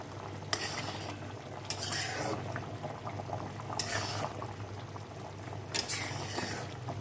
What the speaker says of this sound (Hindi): अब हम इसको बहुत अच्छे से पकने देंगे।